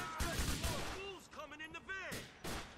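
Bursts of gunfire crackle in GTA IV: The Lost and Damned, short clustered shots mixed with a man's excited speech, moderately loud.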